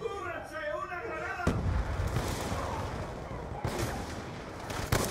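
A loud gunshot cracks in Black Ops 2, followed by a dense rumble of battlefield fire and a couple more sharp reports, after someone speaks briefly over the game.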